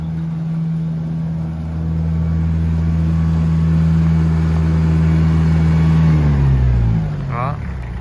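A Japanese Mitsubishi MT331 four-wheel-drive tractor with power steering revs its engine in a loud, close, steady drone that climbs slightly, then its pitch drops and wavers as the throttle comes off near the end.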